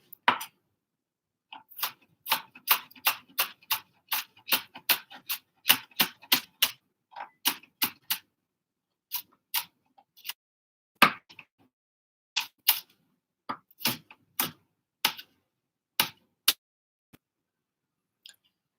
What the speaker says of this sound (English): So that's a chopped up Serrano chili.